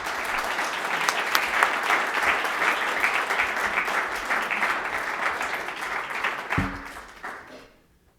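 Audience at a lecture on Shusaku Endo welcoming a speaker with loud, sustained applause from a full room, holding steady for several seconds before thinning out and fading to silence.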